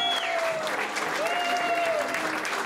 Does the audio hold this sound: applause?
yes